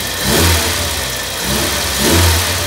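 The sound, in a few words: Volkswagen Gol car engine revving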